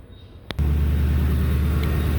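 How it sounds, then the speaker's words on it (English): A vehicle's engine starts during a transmission fluid flush. A brief crank click comes first, then the engine catches into a loud, steady, close idle rumble that holds to the end. "So let's go start the vehicle."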